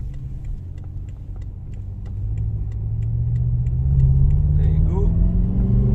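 A 560 hp BMW M5 pulls away at full throttle after a roundabout, its engine note rising steadily in pitch and loudness as it accelerates, heard from inside the car with a regular ticking and a short chime near the end.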